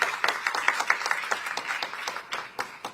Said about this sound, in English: Can we have a huge round of applause for Deputy Prime Minister of Singapore?